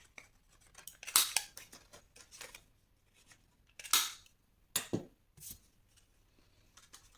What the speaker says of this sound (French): Moi, je vais le faire avec ma perforeuse.